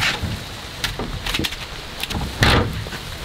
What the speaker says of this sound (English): So this rain should be good for it.